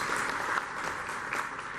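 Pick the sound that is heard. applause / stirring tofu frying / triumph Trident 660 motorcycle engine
applause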